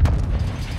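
A grenade explodes in Call of Duty: Modern Warfare II, a single deep, heavy boom with a rumbling low-end tail that fades within a second, loud and close.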